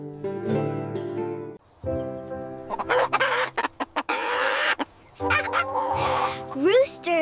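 A rooster crows loudly and close in long harmonic calls, broken by a run of sharp clucks and squawks, with another drawn-out crow near the end.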